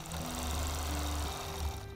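A sewing machine stitches steadily during quilting ruler work, a close, continuous mechanical hum with a fast even rhythm for about two seconds, no voices.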